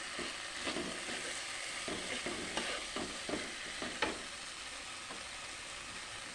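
Food in a pan with boiled bean seeds is stirred and mixed over a soft, constant sizzle, with light, irregular scrapes and taps of the spoon.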